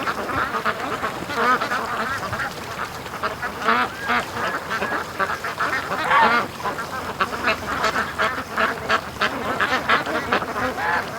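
Pet ducks quack busily while swimming on water, a steady chorus of overlapping calls, close and fairly loud, running throughout with no talk.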